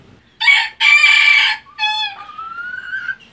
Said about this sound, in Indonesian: Kita kirim ayam jambulnya.